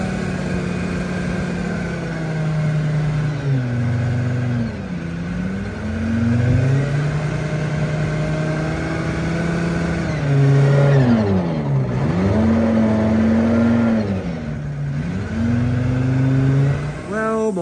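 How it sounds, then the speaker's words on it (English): An old vehicle, a motorhome-type Abbott, is driven slowly with its engine running steadily. The engine note rises and falls through gear changes and throttle shifts, close and fairly loud, with no talk. "we have to drive nice and slowly because we don't want the engine rattling around too"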